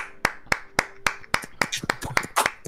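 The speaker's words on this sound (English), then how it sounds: "Round of applause." A few people clap sparsely at a live community panel event: sharp, separate claps at first, then a denser scattered patter with some background voices.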